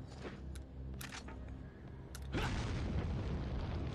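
A grenade goes off in Resident Evil 4 on the PS2, a sudden loud boom that swells into a sustained roar after a few sharp clicks and thuds of gameplay.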